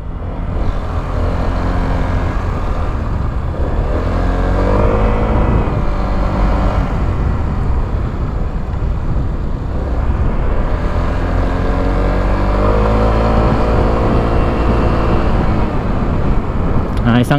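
A Euro Samurai 155 motorcycle engine revs and drones steadily on a test ride around cones at Verdant Square, Carmona, Cavite, loud and close with rising and falling pitch sweeps, while a voice talks over it.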